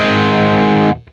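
A heavily overdriven electric guitar chord through a Marshall-style amp pushed by a boost pedal rings out loud and thick with distortion, then cuts off abruptly near the end.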